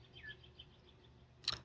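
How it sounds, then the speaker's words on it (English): A bird gives one thin chirp early on, faint and distant, followed by a brief sharp rustle. "Hear the bird?"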